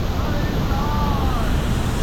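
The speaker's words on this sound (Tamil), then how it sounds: "இந்த வியூ பாருங்கள், செம்மையாக தண்ணி கொட்டிகிட்டு இருக்குது." Water pours down at Hogenakkal waterfall as a loud, steady roar with constant broadband rush and no breaks, sounding close and filling the scene.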